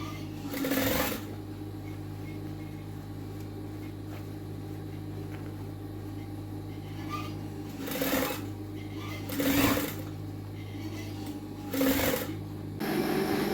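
Sewing machine stitching a sleeve hem, four short bursts of rapid whirring stitches at irregular intervals, near and fairly quiet, with a faint steady hum between them.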